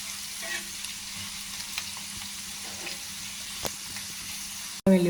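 Masala vankaya, eggplant with salt, frying in a pan: a steady, even sizzle held close throughout, a few faint stirring touches, then a sudden loud clatter right at the end.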